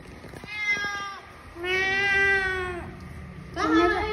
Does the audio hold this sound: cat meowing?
yes